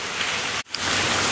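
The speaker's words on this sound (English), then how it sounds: "As you can tell, it's raining," Steady rain patters in a dense hiss close by, broken by one brief dropout mid-way, and then it continues at the same level.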